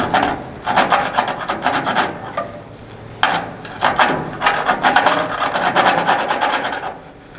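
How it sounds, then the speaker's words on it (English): A metal hand file rasps burrs off a part on a Brass Mini 1.8T, repeated close, loud scraping strokes in an uneven rhythm with brief pauses between passes, no talking. "Let's see if I can get it out with a file."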